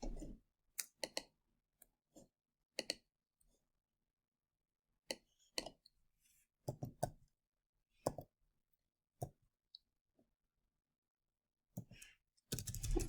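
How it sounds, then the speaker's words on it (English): Typing on a computer keyboard while searching a treatment center database, sparse bursts of quick key clicks separated by quiet pauses, close and fairly soft. "Let's try and type it in like Corbin"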